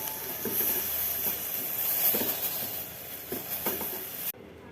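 A pan heating on a gas stove gives off a steady hiss and sizzle, with a few stirring or scraping bumps, that cuts off abruptly near the end.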